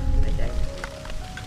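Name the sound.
rain falling outdoors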